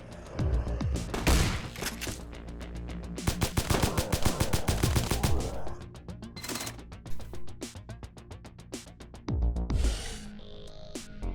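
Rapid shotgun blasts ring out in the first-person shooter Extraneum, loud bursts of firing packed into dense volleys with short pauses between, punchy and close, with no talk over the gunfire.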